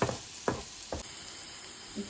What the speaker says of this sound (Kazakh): Басылғанша азғантай қуырып алайық.